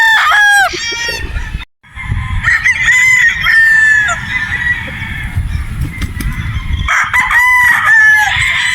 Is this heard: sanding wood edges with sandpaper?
no